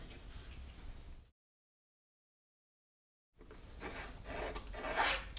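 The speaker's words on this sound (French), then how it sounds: "j'étale bien la matière, hein, je gratte même pour bien faire pénétrer dans le grain de la toile" A painting knife scrapes and rasps oil paint into the grain of a canvas while a Provençal lavender field is painted, in two close, gritty strokes separated by a pause of silence, the second stroke louder.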